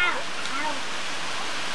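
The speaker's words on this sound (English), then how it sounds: "This is Hurricane Floyd." Hurricane Floyd pounding a house with wind and rain, a dense steady rush of noise heard throughout, with a faint voice briefly at the start.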